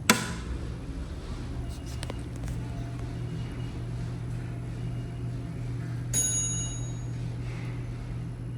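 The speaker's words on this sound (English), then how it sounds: "Oh, I love that chime." A Westinghouse traction elevator at Farish Hall in Houston gives one bright, ringing arrival chime. It sounds once, clear and close, over a steady low hum and faint shuffling.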